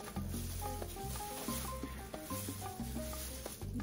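A tortilla sizzles in a hot pan while it cooks and is flipped, a continuous crackling hiss with short bursts, under low background tones.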